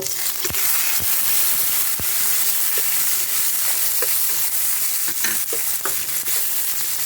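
Chopped tomatoes dropped into hot oil with a dried red chilli and a bay leaf, a continuous close frying sizzle with repeated sharp clicks and scrapes of stirring throughout, no voices.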